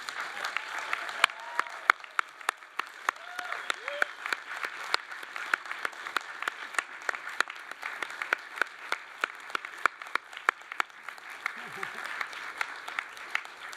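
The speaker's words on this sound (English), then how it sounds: "give them a rousing round of applause" A large graduation ceremony audience claps steadily for over ten seconds, dense applause with occasional sharper claps standing out near the front.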